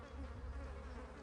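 A swarm of bees at a pit gives a dense, low, steady buzz, faint and continuous throughout the short moment.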